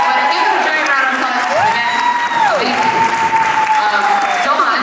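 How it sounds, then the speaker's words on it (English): Crowd applause for volunteer serving staff at a wedding reception, loud and steady throughout, mixed with cheering and a whistle-like rising tone from the guests. "I want to give them a giant round of"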